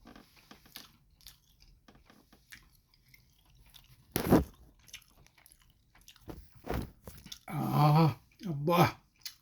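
A person eats chicken curry mixed with rice, giving close, wet chewing and smacking mouth sounds in bursts between quiet stretches, with some talking.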